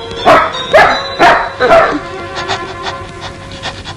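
A dog gives four loud, close barks in quick succession. Quieter yaps and indistinct background sounds follow.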